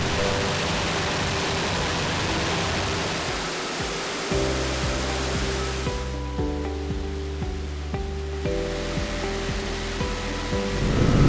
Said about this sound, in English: What you see behind me is the wet line